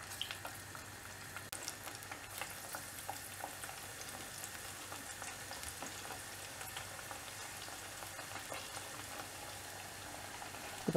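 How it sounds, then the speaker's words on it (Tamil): Spring onion masala vadai frying in moderately hot oil, a soft continuous crackling sizzle with small pops, faint and steady throughout with no talking. "எண்ணெய் வந்து நல்ல மிதமான சூட்டில் இருக்கும்போது நம்ம வச்சிருக்க வடை மாவை ரவுண்ட் ரவுண்டாக தட்டி அதில் போட்டு பொறிச்சு எடுத்துடலாம்."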